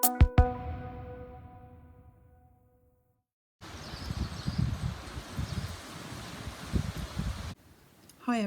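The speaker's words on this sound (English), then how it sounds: "because it is very, very windy." Strong gusts rush through a back garden on a stormy day in Fuerteventura, a loud broadband rustle and low buffeting that rises and falls for several seconds after a brief ringing tone, then cuts off abruptly.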